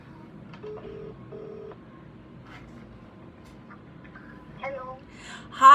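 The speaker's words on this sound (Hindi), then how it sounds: "I am calling you right now" A telephone dials out a call: a few short tones beep in sequence over a quiet line hiss, followed by faint clicks and then a voice starting at the end.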